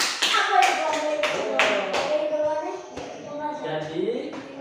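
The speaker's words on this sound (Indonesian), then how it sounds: "tepuk tangan dulu" Children in a classroom clap in a short burst of sharp, scattered applause, close by, with young voices mixed in.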